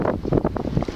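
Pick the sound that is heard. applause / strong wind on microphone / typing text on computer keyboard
strong wind on microphone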